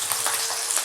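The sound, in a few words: potatoes added to hot oil, frying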